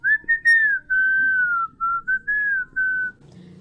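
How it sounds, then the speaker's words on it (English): Someone whistles a simple tune close by, clear pure notes in a few short phrases with brief pauses, alone with no voices. "the whistling of a boy as he's walking"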